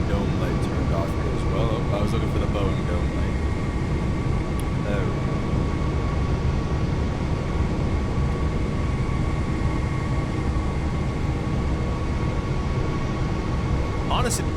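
Airbus airliner with IAE engines in a flight simulator, a steady broadband engine roar with a constant whine running loud and continuous throughout, with faint talk underneath.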